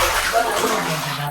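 Water rushes and splashes steadily as an old water tank on a rooftop terrace is washed out, close and continuous, with a faint voice underneath.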